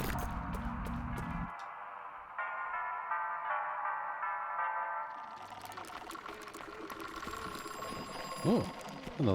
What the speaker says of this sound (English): Oh, another phone call.